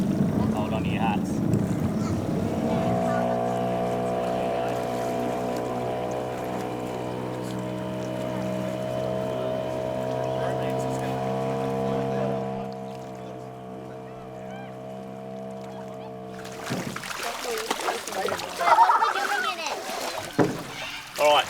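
A motorboat out on the water drones with a steady, fairly loud engine hum for most of the stretch, then gives way to splashing and water noise near the end, with voices heard at times.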